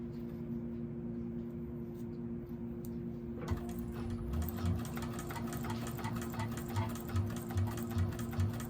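A 1341 cylinder arm sewing machine stitches a bag, starting up partway through and running with a fast, steady mechanical chatter and pulsing rhythm, close and fairly quiet.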